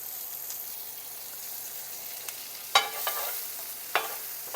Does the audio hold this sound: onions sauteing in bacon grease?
yes